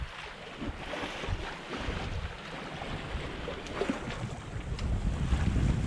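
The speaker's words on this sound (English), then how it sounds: "And this is peaceful sailing right here." A sailboat runs on a broad reach in 10 to 13 knots of wind between St. John and St. Croix in the U.S. Virgin Islands, with steady wind rush, water hissing along the hull and washing waves and no talk.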